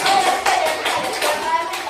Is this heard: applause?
yes